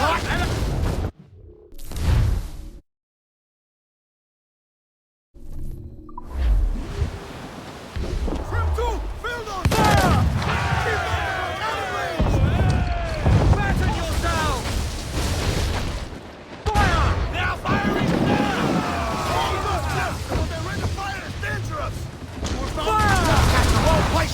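Ship cannon volleys in the video game Assassin's Creed IV: Black Flag, heavy booming salvos and crashing impacts rolling on after a brief silence, with shouted voices of the crew mixed among the blasts.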